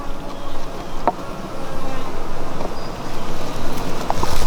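Honey bees buzz around nucleus hives on a hot, sunny day, a steady low drone that stays under the ambient noise throughout with a couple of brief clicks.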